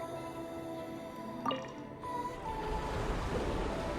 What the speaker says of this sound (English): That will fill the empty middle chamber with water.